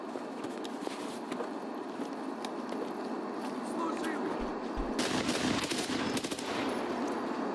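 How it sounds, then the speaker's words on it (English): Distant gunfire crackles in Escape From Tarkov near a gas station, scattered shots and bursts rising into a denser volley midway, layered under game ambience and a talking voice. "Might have Rashala at the gas station with all the shooting that we're hearing."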